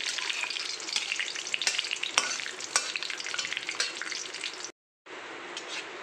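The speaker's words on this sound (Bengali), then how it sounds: "3টে তেজপাতা আর কাজুটা দিয়ে এবারে এইভাবে নাড়াচাড়া করতে হবে" Bay leaves, cashews and whole garam masala fry in a pan for vegetable fried rice, a bright continuous sizzle broken by scraping stirs, with a brief silent cut near the end.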